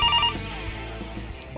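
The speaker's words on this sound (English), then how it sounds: "Phone call." A telephone rings in the pretend auto-shop play area of a children's museum, a short bright ring burst that fades into a busy, echoing room hum.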